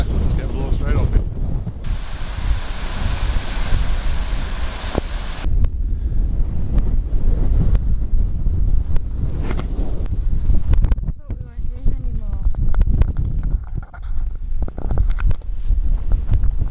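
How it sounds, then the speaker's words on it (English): Strong wind buffets the microphone with a constant low roar and gusty rumble, while surf or water washes in the background throughout. "It's really, really windy today."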